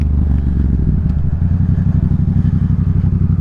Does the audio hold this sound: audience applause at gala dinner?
no